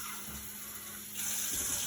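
Water poured from a tap into a blender of green seasoning ingredients, a soft running trickle that swells louder and brighter partway through, close by with no voices.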